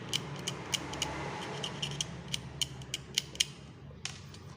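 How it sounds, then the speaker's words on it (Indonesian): A cutter knife scrapes soot and charring off the contacts of a damaged angle grinder switch, giving sharp close clicks and scratchy strokes in an irregular rhythm over a low background hum. "langsung aja kita bersihkan memakai cutter aja sampai jelaganya hilang, arangnya hilang"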